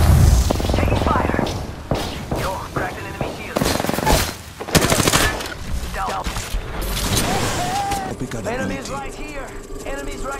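Rapid bursts of automatic gunfire and heavy shots from an Apex Legends firefight crackle loudly and almost without pause, with booms and thuds mixed in and brief game voice callouts breaking through.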